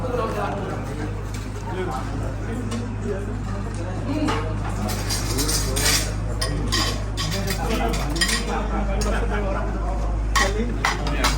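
Plates and dishes clink and clatter as they are taken out at an old age home, with scattered sharp knocks over a steady low hum while people talk throughout.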